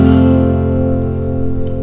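Finger-picked guitar, a sweep across the strings closing with a pinky upstroke, notes ringing and sustaining steadily throughout, close and clear with no talking.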